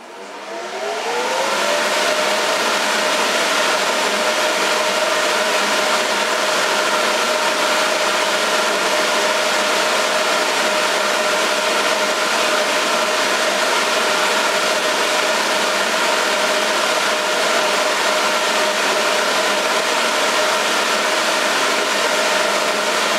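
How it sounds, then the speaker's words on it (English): A small bouncy castle blower fan runs about three metres away, spinning up in the first seconds and then holding a steady whine over a loud, constant rush of air, with no voices. "it's one of them little castle blower fans"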